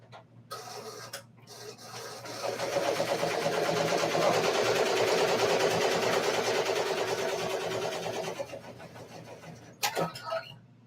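A Ricoma MT 1501 embroidery machine that needs oil stitches out a design, a rapid rhythmic mechanical chatter that builds in and holds steady for several seconds before stopping, then a few clicks.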